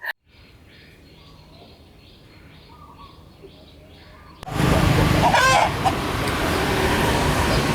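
Roosters crow and hens cluck in a farmyard in Vietnam, several calls at moderate distance, then a sudden louder burst of crowing and noisy background close by.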